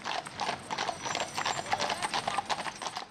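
Boulonnais draft horses' hooves clip-clop steadily on hard ground in a quick, continuous rhythm of many overlapping strikes, moderately loud and heard without talk.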